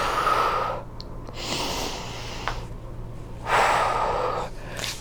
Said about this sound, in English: So inhale and then exhale.